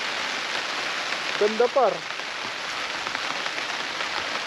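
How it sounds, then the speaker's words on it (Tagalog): Rain pours steadily on a raw campsite with a tarp overhead, a constant hiss of drops, while a voice speaks briefly in the middle. "Relax ka lang tapos pinapakinggan mo yung buhos ng ulan."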